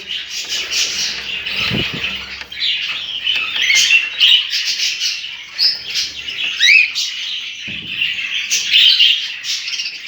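Budgerigars chirp and warble steadily in a home breeding aviary, a dense flock of busy tweets and squawks close by, with a few brief low thumps.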